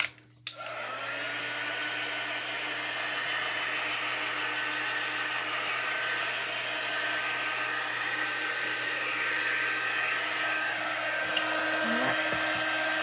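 A hair dryer switches on after a brief clunk and blows steadily, drying chalk paste on a backer sheet, with a continuous whirring hiss and motor hum that holds near and loud without talk.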